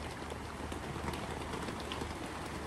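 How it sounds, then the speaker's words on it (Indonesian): Rain falls steadily in a continuous, even hiss that fills the background at low level throughout. "ya ampun hujan, berisik nggak ya?"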